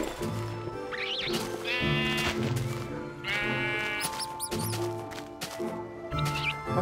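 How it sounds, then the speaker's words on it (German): Blocky Minecraft sheep bleat repeatedly near a swamp, several wavering nasal calls in an irregular rhythm over a steady ambient hum, with someone speaking German in between. "Ah, so viel zu den Schafen."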